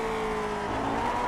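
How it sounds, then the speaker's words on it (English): A Lotus 49 race car engine roars at high revs in the iRacing sim at Sonoma, loud and continuous, its pitch dipping slightly and then rising again over a brief stretch, with no voices. "So revs kind of rose a bit there when I went over here."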